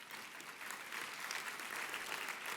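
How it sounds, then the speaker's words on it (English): A crowd at a Georgia Faith & Freedom Coalition event applauds Attorney General Chris Carr. The clapping is an even, dense wash that sounds fairly distant and quiet, and it swells slightly as it continues. "I'll take a round of applause for that."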